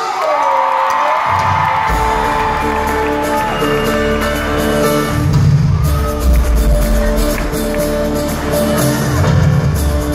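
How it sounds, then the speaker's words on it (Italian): A live concert audience at the Palapartenope cheers, whoops and claps in a loud, sustained crowd roar, with music continuing underneath and a singer's voice briefly at the start. "L'applauso!"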